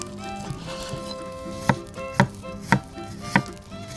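A knife chops meat into small bite-sized chunks on a cutting board for chiles rellenos cooked over a fire. About five sharp, evenly spaced thuds sound up close over a steady background hum, with no talking.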